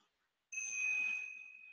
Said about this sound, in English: And then you hear the chimes.